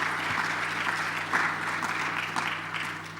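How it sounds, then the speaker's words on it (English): Continuous audience applause at a conference on African air travel, thanking panel guests, a steady wash of many hands clapping for about three seconds, with a faint low hum underneath and no speech. "A round of applause for them,"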